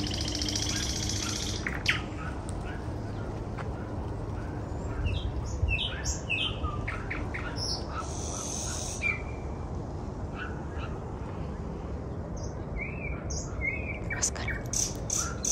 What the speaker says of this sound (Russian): тебе нравится, как птичка поет?